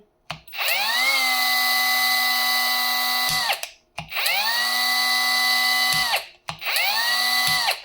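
A cordless Leader 76mm mini angle grinder spins up three times, each run a loud, steady high-pitched whine lasting a few seconds before cutting off, with short silent gaps between starts.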